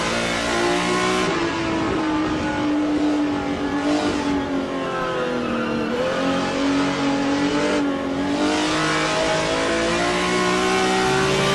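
A BMW M1 Group 5 race car in a racing video game, its engine close and loud as it revs up and down through gear changes in a steady, high-pitched onboard drone.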